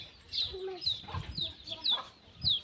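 Chickens cluck and chirp in scattered short calls at a farmyard, moderately near but fairly quiet, with light background noise.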